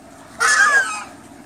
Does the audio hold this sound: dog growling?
no